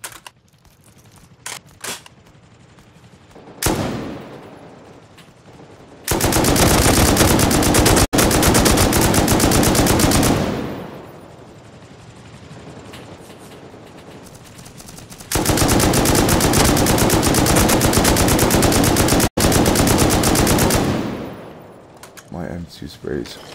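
Automatic rifle fire in the online shooter Rust rattles out in two long, loud sustained bursts, with scattered single shots and keyboard clicks between them.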